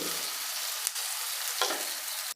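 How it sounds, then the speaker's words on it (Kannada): Steady, close sizzling of food frying in a pan, with a couple of brief stirring scrapes, cutting off abruptly at the end. "ಇಲ್ಲಿ ಫ್ರೈ ಆಗಿದೆ ಸ್ನೇಹಿತರೆ"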